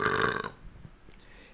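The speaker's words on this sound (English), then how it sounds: "So I'll try to do more vocal things instead of burping." A single loud, drawn-out burp rumbles up close, then trails off into quiet room noise.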